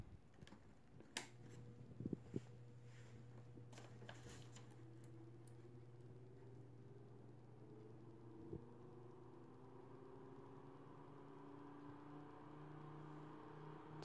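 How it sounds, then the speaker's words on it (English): A new replacement cooling fan in a Lab Series L11 guitar amplifier runs with a steady, fairly quiet whir and low hum, joined by a few faint knocks and clicks early on. "Here's the new fan."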